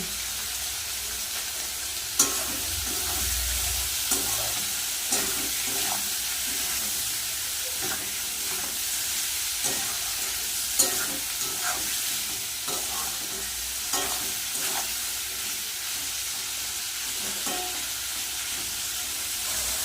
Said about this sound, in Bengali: পেঁয়াজ আর চিংড়ি মাছ ভাজা হয়ে গেছে